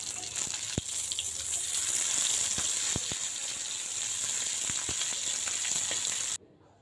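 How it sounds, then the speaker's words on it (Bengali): Hilsa fish tail frying in hot soybean oil gives a loud, steady, close sizzle with scattered sharp pops and crackles, cutting off abruptly near the end. "তেলটা গরম হয়ে এসেছে, আমি মাছটা দিয়ে দিলাম। এই পিঠ ও পিঠ মাছটাকে আমি 2-3 মিনিট ভেজে নিব।"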